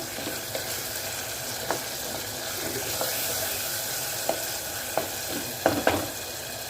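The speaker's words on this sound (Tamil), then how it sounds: "வெந்தயம், சீரகம், சாம்பார் வெங்காயம் சேர்த்துக்கோங்க." Fenugreek seeds, cumin and small sambar shallots with garlic fry in sesame oil for a mango kuzhambu, giving a steady soft sizzle with occasional sharp ladle scrapes and taps against the pan throughout.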